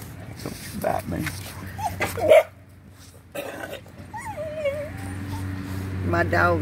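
A dog whimpers and gives a few excited yips while a turtle is found under a chair outdoors, close to the microphone, mixed with people talking over it.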